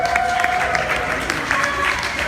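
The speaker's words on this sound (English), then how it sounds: "Let's give her a round of applause" Applause from a seated audience at a community panel on trauma, steady and fairly loud, with a faint voice running underneath.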